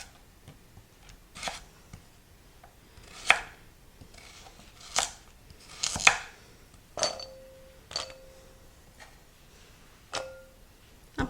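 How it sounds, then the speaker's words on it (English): A knife thinly slicing vegetables on a cutting board for chicken noodle soup, giving a dozen or so crisp, evenly spaced chops up close, with no voices. "I'm just going to thinly slice them. You want to keep your slices all the same size."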